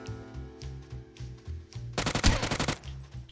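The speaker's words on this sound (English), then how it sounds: "People shooting at the front" Gunfire in PUBG bursts out as a rapid, loud string of automatic shots lasting under a second, after a stretch of low pulsing background sound.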